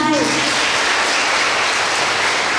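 An audience at a Buddhist nun's dharma talk applauds loudly and steadily throughout, a dense sustained clapping with a brief voice heard at the very start.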